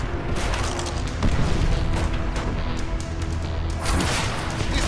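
Heavy booming tank cannon blasts roar amid constant battle noise and gunfire in the video game Call of Duty: World at War, dense and loud throughout.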